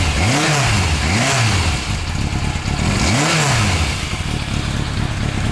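Moped engine fitted with a new, quieter exhaust, revving up and down in a few distinct swells over a steady idle, close and loud, with no talking.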